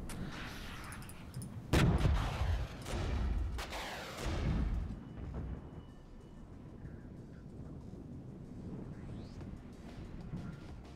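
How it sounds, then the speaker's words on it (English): Enemy artillery strikes land on troops in the video game Regiments, with two heavy booming impacts followed by rumbling decay and lower, quieter battle noise afterward. "These guys are getting hit by enemy arty and stuff"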